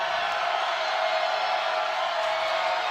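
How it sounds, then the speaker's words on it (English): Northern Arizona fans making noise in the stands at an IFL championship indoor football game, a steady distant roar of crowd noise with faint whoops, continuous throughout. "A lot of noise from that Northern Arizona contingency in the crowd"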